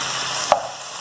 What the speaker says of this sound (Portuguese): eu tô dourando a costelinha